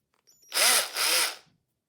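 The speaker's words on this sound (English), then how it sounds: "It's not a very noisy drill." A Parkside 12V cordless SDS drill whirs in two short bursts, a high buzzing motor sound, close and fairly loud, then stops.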